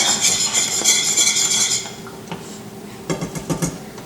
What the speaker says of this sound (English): Let me get this stirred.